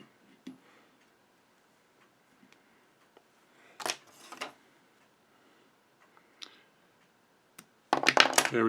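Scissors snip trimming a squirrel-fur strip during fly tying at the vise: a few faint, brief clicks scattered over near-silence, ending in a slightly louder burst of rapid snipping.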